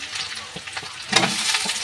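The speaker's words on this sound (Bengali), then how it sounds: "এই যে দেখুন এবার আমি টমেটোটা দিয়ে দেবো" Tomato goes into a pan of deep-browned onions for mutton kosha, and a continuous oily sizzle rises into a louder burst of frying with faint stirring scrapes.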